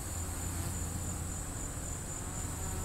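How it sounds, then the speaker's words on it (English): Bees swarm over a loaded hive frame, a faint, steady, even buzzing drone with no other sounds. "This next frame is really loaded with bees"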